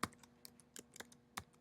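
Keys clack on a computer keyboard as a short word is typed, a handful of crisp separate taps with small gaps, close and quiet with no talking.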